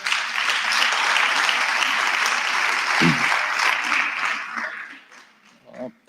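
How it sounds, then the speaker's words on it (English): Applause for the minister at a national SRC induction event: a dense, loud wash of clapping from a sizeable audience that holds steady, then thins and fades, with a brief voice near the end. "Can we give the round of applause to the minister?"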